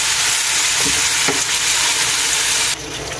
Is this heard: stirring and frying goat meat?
yes